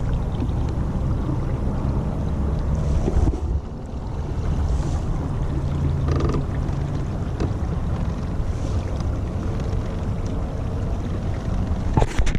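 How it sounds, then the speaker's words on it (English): Kayak pushed along by a Newport Vessels 36 lb electric trolling motor at its top speed setting, giving a steady loud wash of water and wind noise with the motor hum underneath, nearly unchanged throughout. "we are cruising along in our kayak. No need for paddling anymore."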